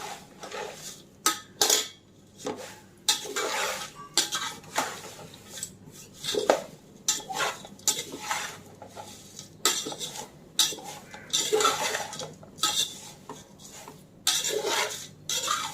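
A spoon stirs fried thin poha chivda with fried grated coconut in a pan over low heat, giving repeated close metallic scrapes and clinks against the pan in an irregular rhythm, with a faint sizzle.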